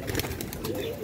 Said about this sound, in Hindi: और अब वो कबूतरे भी जो है वो उतर रहे हैं आहिस्ता आहिस्ता।